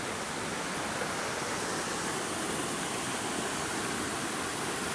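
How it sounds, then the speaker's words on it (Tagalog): Flowing water, a dense, unbroken broadband rush like a stream or runoff heard up close, loud and steady from start to finish with no voices. "Tubig."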